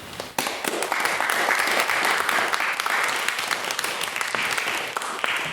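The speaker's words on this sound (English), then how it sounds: "can we please get another round of applause for a wonderful maiden speaker" An audience at a debate claps steadily in a dense, even round of applause that starts abruptly and holds for several seconds.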